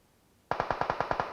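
Automatic gunfire from a weapon in PUBG Mobile bursts out suddenly, a rapid string of about eight loud, sharp shots in quick even succession after a quiet lead-in.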